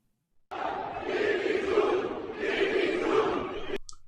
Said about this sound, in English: This is Iranians, and you can hear they are chanting Bibi June, Bibi Netanyahu.